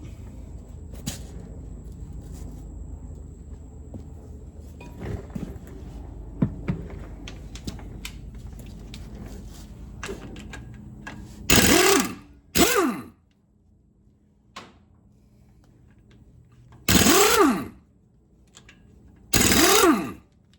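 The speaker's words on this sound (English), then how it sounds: "Next thing you got to do is get these bolts out of the end of the axle" Wrench work on the 3/4-inch axle end bolts of a 2006 Chevy 3500 dually rear axle: scattered light clicks and taps, then four loud bursts of impact-gun or ratchet noise, each about half a second long, with quiet stretches between them.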